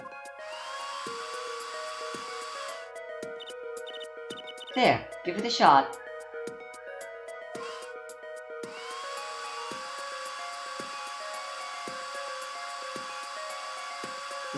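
Hair dryer setting plaster in the Apollo Justice game: a steady whirring electric drone runs for a few seconds, cuts out while short bursts of other sound and a voice pass, then resumes and holds to the end.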